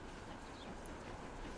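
A departing train in the Transport Fever 2 game, rendered as a steady, quiet rumble of rolling rail cars with broad noise and no distinct clicks or horn.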